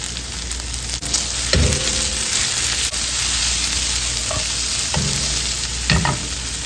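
Garlic and chilli fry in hot oil in a pan with a steady, loud sizzling hiss, punctuated by a few scraping stirs and spatula knocks, close up with no talking.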